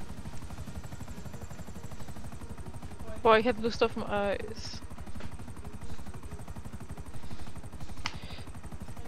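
A helicopter in the video game GTA V drones as a steady rhythmic rotor thrum throughout, with a voice talking briefly over it in the middle.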